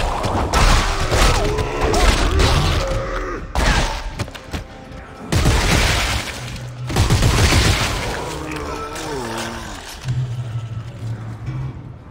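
Rapid gunfire from the Dead Space 3 video game, loud bursts of shots fired from the hip, broken by short pauses and mixed with game music and crashing effects.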